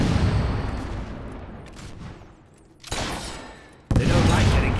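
Gunfire in Fable 3, a volley of loud in-game shots with sharp bursts near the end, fading briefly before erupting again.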